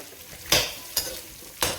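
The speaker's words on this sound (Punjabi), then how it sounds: "ਇਹਨੂੰ ਆਪਾਂ ਭੁੰਨਾਂਗੇ ਚੰਗੀ ਤਰ੍ਹਾਂ ਇਹ ਪਾਤੀ ਸੀ ਕਲੌਂਜੀ" Nigella seeds roasting with white vinegar in a pan give a quiet sizzle, broken by three sharp stirring scrapes at steady intervals.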